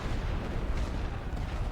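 World War I artillery in The Great War: Western Front sounds as a sustained, loud rumbling bombardment, overlapping booms and crackling bursts blending into one continuous roar with no voices.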